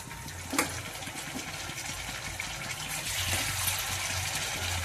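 Chicken pieces drop into a hot frying pan of browning onions for curry, setting off a steady broadband sizzle with a brief clatter near the start and a louder hiss swelling after a few seconds, close and continuous without talk.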